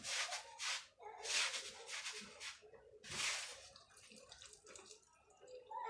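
Water splashing and running in bursts while a carpet is scrubbed with a long-handled brush, several loud gushes separated by brief pauses, close by.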